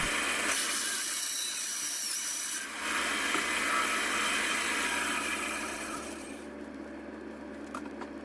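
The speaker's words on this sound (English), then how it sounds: "Now I'm drilling holes in the plastic surrounding" Power drill boring holes through the plastic surround of a laptop battery pack in a workshop, a steady loud whirring grind running for several seconds with a brief dip, then easing off toward the end.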